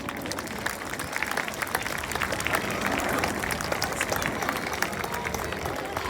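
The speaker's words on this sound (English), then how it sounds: "Swansea give the synchro pair a massive round of applause." A beach crowd at the 2022 Swansea air show applauds a synchro pair display, producing steady, dense clapping throughout that sounds broad and fairly loud without pause.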